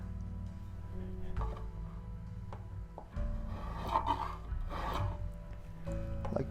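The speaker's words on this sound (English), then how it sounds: "I'm just gonna go ahead and scribe a line where I can cut the bottom off" A scribe scratches a line into a spinning live-edge wooden bowl on a lathe, a faint raspy rubbing over the steady low hum of the motor.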